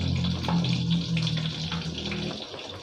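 Pork neck frying in oil in a pan, a steady dense sizzle with a continuous low hum beneath, fairly loud and unbroken throughout, with no voices.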